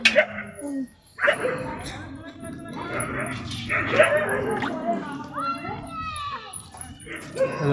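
Dogs bark and yip in short bursts amid lively background noise, with children's voices and people talking throughout.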